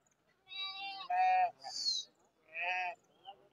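Sheep and lambs at the Tuesday Kadiri livestock market give several close, quavering bleats in quick succession, each call short and nasal, separated by brief pauses against a quiet background.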